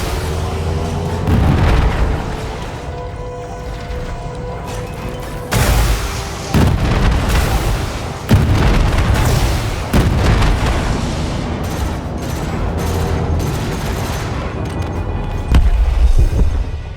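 Packhound missiles explode in a video game, with a series of loud, heavy booms and blasts, some sharp and some rumbling, over a continuous droning game background.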